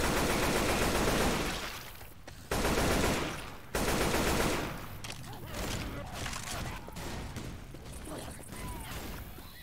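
Loud automatic gunfire in Left 4 Dead 2, sustained bursts that cut off abruptly and restart, then thin into scattered shots and impacts, with a voice talking over them.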